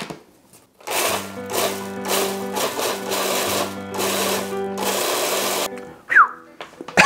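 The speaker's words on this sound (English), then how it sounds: "I'm now going to pulse it until it turns into a nice puree." Food processor pulsing chili peppers into a puree, the motor whirring in several loud close bursts with short pauses between pulses.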